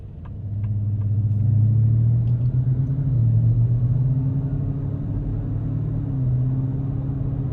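A 2026 Ford F-150 Raptor R under acceleration, a deep engine rumble that swells and holds steady from inside the cab, with no talking.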